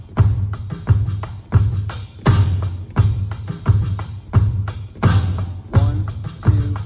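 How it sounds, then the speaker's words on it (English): A steady drum-kit groove with soft ghost notes on the snare between the main backbeats, driven by thumping kick drum and crisp cymbal hits; loud, close and evenly repeating with no talking. "The way you make this one more interesting is with ghost notes on the snare drum."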